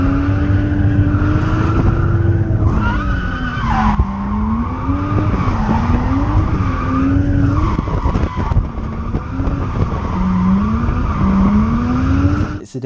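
Drift car sliding sideways with tires skidding and squealing over a loud, high-revving engine, heard continuously and close from inside the car with shifting pitch as it spins.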